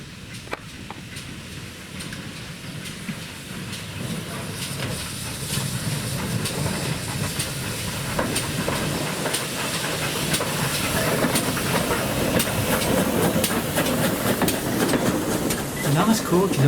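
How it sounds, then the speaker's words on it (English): Steam locomotive 9466 drawing in with a two-coach local train at Crowcombe station on the West Somerset Railway, a steady hiss and rumble building gradually and growing louder as it nears. "9466 arrives at Crowcombe with a 2-coach local train from Willerton"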